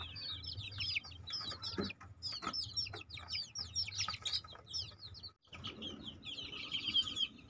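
Many nearly three-week-old chicks peep and chirp in rapid, overlapping high-pitched calls, close by in a simple coop, with occasional soft clucks and rustling.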